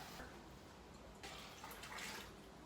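Tap water running into a pot to be filled for boiling, a soft continuous splashing with a brighter surge of flow partway through, quiet and close with no talk.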